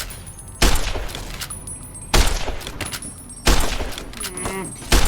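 Three sharp, loud gunshots sound at regular intervals in Fallout: New Vegas. Each one is followed by a short rumbling decay, with game sounds and some clinking in between.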